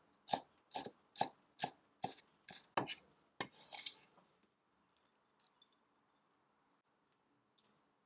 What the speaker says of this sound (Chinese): 挤好的萝卜切碎